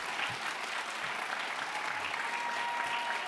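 A forum audience at the 2015 RJC gathering claps in a sustained, even burst, many hands together filling the room without letting up.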